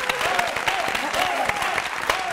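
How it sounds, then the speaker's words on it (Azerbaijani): Steady applause from a TV show audience, many hands clapping continuously and fairly close, with faint crowd murmur and brief voices beneath. "Alqışlayaq Rozanın."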